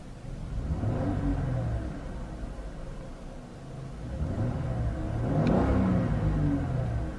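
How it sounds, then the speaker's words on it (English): 2013 Dodge Charger SE engine revving: two smooth rising revs, the second climbing higher to around 4,000 RPM, a mid-pitched engine rumble heard close up with no talk. "Has a very smooth revving engine."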